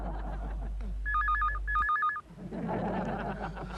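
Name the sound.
telephone ringing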